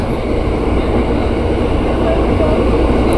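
Trains at Cipinang locomotive depot, a loud, steady rail rumble with a dense rushing roar and no clear breaks.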